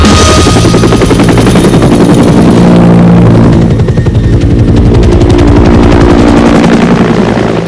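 Vietnam War-era Huey helicopter rotors pound out a loud, steady, rapid blade thump with a heavy engine roar underneath, close and continuous throughout, briefly easing midway before returning.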